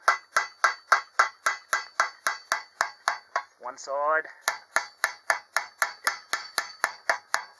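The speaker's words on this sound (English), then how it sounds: "I'm going to start using a little tiny hammer and just tap on the edge" Small ball-peen hammer tapping the edge of a hot forged utility knife blade, a steady close, bright metallic strike rhythm, pausing briefly while a voice speaks, then resuming evenly.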